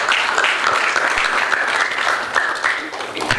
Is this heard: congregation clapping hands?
yes